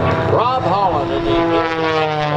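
A propeller aerobatic airplane flies at an air show in Tampa, its engine droning loud and close with rising and falling pitch sweeps as it maneuvers, under an announcer's voice.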